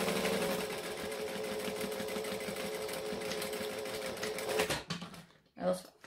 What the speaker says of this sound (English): And then you can basically just sew up along the stabilizer because that's your seam allowance.